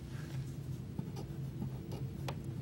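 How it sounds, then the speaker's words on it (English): Pen writing a mass figure onto a rock or mineral sample label, with a few short, soft scratchy strokes close by over a steady low background hum. "So I'm going to write that right here."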